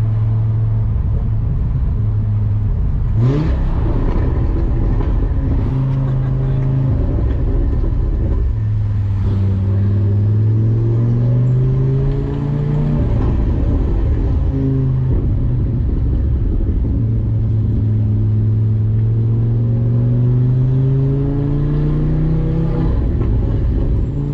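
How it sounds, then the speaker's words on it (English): Audi RS3 with a custom turboback exhaust revving, several rising and falling throttle blips over a deep burbling idle, loud and close with no talking. "Turbo is much louder as well"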